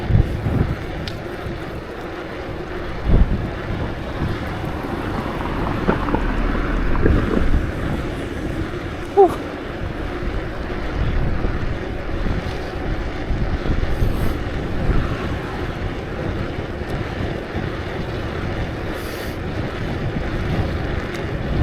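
Wind roars across the microphone of someone riding on a windy evening, a steady rushing noise with occasional buffeting thumps throughout.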